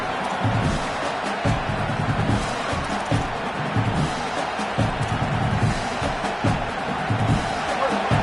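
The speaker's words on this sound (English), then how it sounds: "The roar of the crowd trying to fuel this defense to keep them pinned in their own end." Football stadium crowd at a Michigan vs Michigan State game, roaring steadily and loudly throughout, a dense continuous wash of many voices with rhythmic surges, no single voice standing out.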